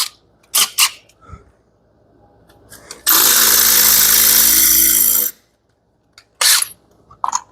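A drill bites into a hard steel plate with a loud, steady grinding whine for about two seconds, bracketed by brief clicks and short knocks before and after.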